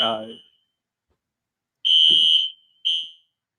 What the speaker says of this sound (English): Oh, is there an alarm? We got a fire alarm?